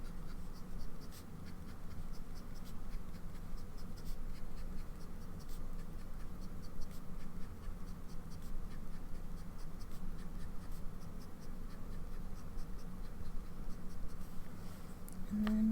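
A broad nib fountain pen scribbles on paper, a faint, continuous close scratching with quick strokes and no talk.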